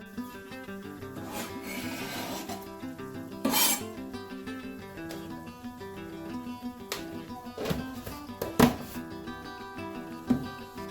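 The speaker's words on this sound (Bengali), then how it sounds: "কুচি করে রাখা টমেটোটা দিয়ে সমস্ত মশলাগুলো একসাথে ভালো করে কষিয়ে নেব" Chopped tomato and spices stir-fried together in a pan, with soft scraping and rubbing strokes and a few sharp clinks of a utensil against the pan over faint background music, no talking.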